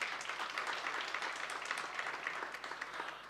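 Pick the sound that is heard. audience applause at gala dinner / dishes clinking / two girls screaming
audience applause at gala dinner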